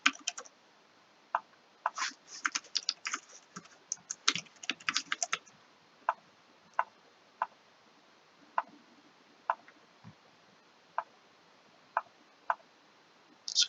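Keys clicking on a computer keyboard while a username and email are typed: a dense burst of quick keystrokes early on, then slower, evenly spaced single taps, close and fairly quiet with no talking.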